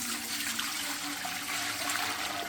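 Cold tap water pours steadily into a stock pot with a continuous, even rushing splash that stays close and moderately loud throughout.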